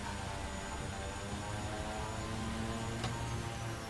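A propeller aircraft engine runs at a steady drone in Microsoft Flight Simulator, with an even, constant hum and no talk over it.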